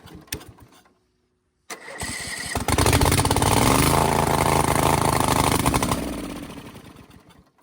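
A V-twin engine on a zero-turn mower cranks briefly, then catches and roars loudly close by. It runs for a few seconds before fading and dying out.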